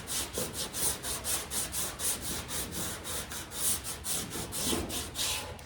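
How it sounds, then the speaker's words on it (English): Sandpaper rubbed by hand across a contoured metal body panel during rust repair on an International Loadstar truck, a steady run of close, rhythmic rasping strokes with no talking. "I can put it on here and sand it."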